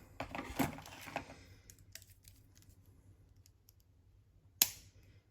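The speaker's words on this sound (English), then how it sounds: "And now I'm going to trim it." A sharp snip of cutters trimming wire on a handmade bracelet, a couple of quiet clicks early on and one crisp cut near the end, close and isolated in a quiet room.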